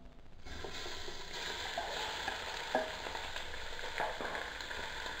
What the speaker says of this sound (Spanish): Vamos a colocar un poco de aceite. Y posteriormente vamos a poner lo que es nuestro pollo